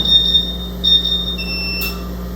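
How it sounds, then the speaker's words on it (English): Beeping alarm from an Aeon commercial laser cutter, repeated high-pitched tones over a steady hum, then the water chiller shifting into a different steady whine as it starts up. "you can hear how it'll give me an alarm, and then you can hear the water chiller fire up"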